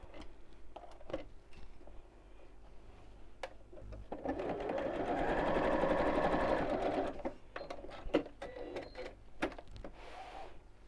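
A sewing machine stitches a fabric reversible bag in one sustained run of about three seconds. Scattered ticks and clicks from handling the fabric come before and after the run, close and fairly quiet.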